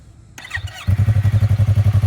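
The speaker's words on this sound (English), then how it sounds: "fire up the bike" Motorcycle engine starting with a short crank, catching and settling into a loud, close, rhythmic idle thump.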